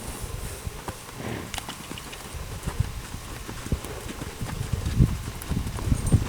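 Horse walking in a round pen, hooves clip-clopping on the ground in an irregular walking rhythm, close by with a few heavier footfalls toward the end.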